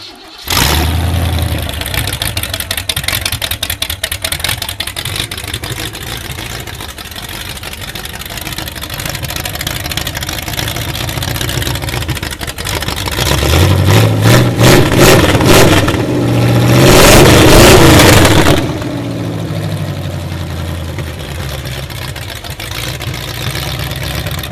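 A cold-natured engine cranks and catches after a little prime, then idles roughly and revs up harder around the middle before settling back to idle, loud and close with no talk.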